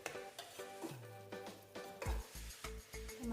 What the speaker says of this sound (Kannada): ಮಸಾಲೆ ಚೆನ್ನಾಗಿ ಫ್ರೈ ಆಗಬೇಕು. ಒಂದು 4 ನಿಮಿಷ ಚೆನ್ನಾಗಿ ಫ್ರೈ ಆಗಬೇಕು.